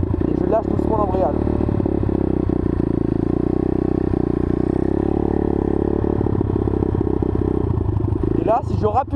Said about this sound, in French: Donc là j'accélère un tout petit peu et je lâche doucement l'embrayage.